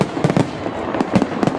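Fireworks bursting in a rapid, irregular series of sharp pops and cracks, some louder and nearer than others, with no voices over them.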